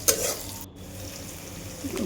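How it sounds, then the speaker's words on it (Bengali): Onion and chili with turmeric fry in a pan, with a continuous near sizzle and a brief clatter of the spatula against the metal. "একটু লাল লাল করে ভেজে নেব"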